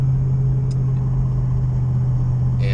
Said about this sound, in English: I'm having fun driving the Mustang